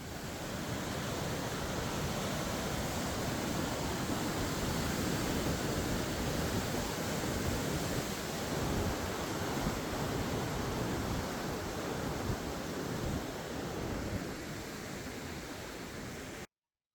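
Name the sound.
river water flowing at a trail crossing in Nepal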